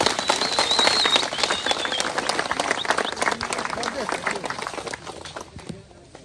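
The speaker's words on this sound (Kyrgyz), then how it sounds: "бир кол чабып койсоңуздарчы" A village crowd claps at a Kyrgyz wrestling (kurosh) tournament in Sherali village, a dense burst of applause that fades over several seconds while someone speaks over it.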